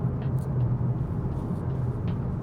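A 2025 Mazda3 compact car driving a gentle slalom on a snowy road, heard as a steady low engine and road rumble from inside the cabin, continuous and fairly loud with no talking.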